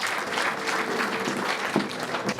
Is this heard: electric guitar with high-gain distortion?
no